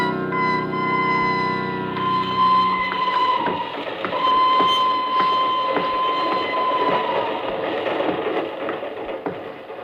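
A train sound effect in an old-time radio drama: a loud, steady rail rumble with sustained whistle-like tones fading out, under quick rhythmic clickety-clack, with no voices.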